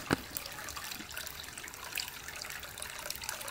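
A Drinkwell Stone Pagoda cat water fountain trickles steadily, a soft continuous splashing and dribbling of running water, faint and close with no voices.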